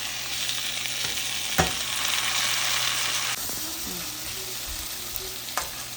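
Tomato added to softened onion sizzles and fries steadily in a pan for ridge gourd chutney, with a few louder clatters and stirring knocks, close and continuous, with no talking.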